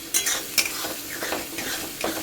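Fish kalia cooking in a pan, with a spatula stirring and scraping through the pieces in quick repeated strokes over a steady background sizzle, close and moderately loud.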